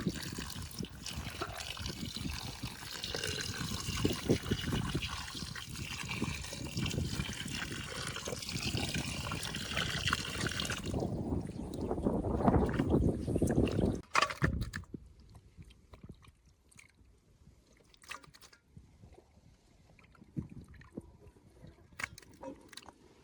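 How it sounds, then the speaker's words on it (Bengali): Chicken pieces washed with water in a bowl, splashing and trickling continuously for about fourteen seconds, then fading to faint, sparse drips and handling sounds. "এই যে এখন জল দিয়ে সুন্দর করে ধুয়ে গামলায় নেব।"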